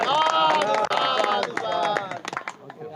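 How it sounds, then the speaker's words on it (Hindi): A gathered crowd at a birthday celebration claps in scattered bursts, mixed with loud overlapping voices and chatter for the whole stretch, thinning out toward the end. "ये बात के लिए सब लोग ताली बजा दीजिए भाई"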